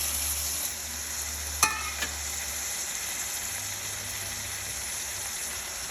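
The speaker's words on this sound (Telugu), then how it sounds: "దీంట్లో ఒక 1/4 కిలో పైగా టమాటాలు వేస్తున్నాను" Tomatoes fry with fenugreek leaves in a spiced tempering, giving a faint, steady sizzle with two sharp clicks of the stirring utensil against the pan near the start, and no talking.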